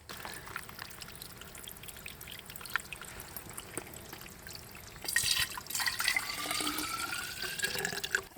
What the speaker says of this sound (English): So I want to go down the creek here